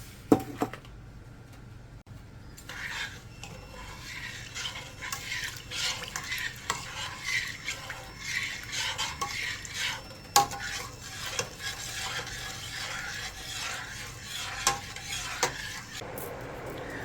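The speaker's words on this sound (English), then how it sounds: "Starting to boil." Pickling liquid with dried celery heats in a pot toward a boil, heard as a continuous bubbling, frying-like hiss with scattered clinks and stirring scrapes throughout.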